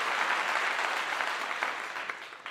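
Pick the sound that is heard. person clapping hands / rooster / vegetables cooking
person clapping hands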